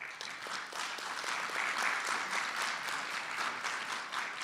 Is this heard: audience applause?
yes